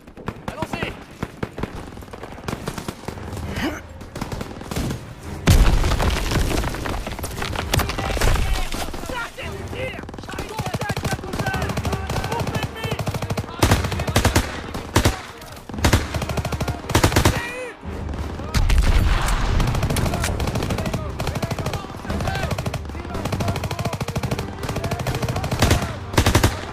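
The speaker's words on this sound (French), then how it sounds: "Des coups de feu!" Gunfire in the Call of Duty WWII campaign, set on 14 November 1944: sustained machine-gun bursts and rapid rifle shots crackle loudly for the whole stretch, broken by brief pauses, with shouted voices in the mix.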